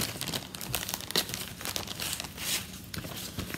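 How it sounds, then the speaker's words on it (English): Plastic bag crinkles close by as a cross-stitch pattern is pulled out of it, with irregular rustles and a few sharper crackles, fairly quiet and with no talking. "I'm going to take it out of the bag, so sorry for the crinkling"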